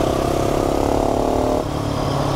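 A KTM motorcycle engine wails at full throttle, a loud, close, steady high-pitched drone that cuts off sharply into a lower engine note as the rider shifts, with no talking.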